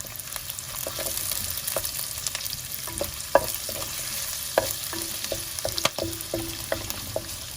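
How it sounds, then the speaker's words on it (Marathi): Ginger and curry leaves fry in hot oil in a pan for a Goan pomfret fish curry, giving a steady close sizzle broken by sharp pops and clicks throughout, with no voices. "आता आले आणि करी लिव्स घालून ताका बरें तळसून घेवया."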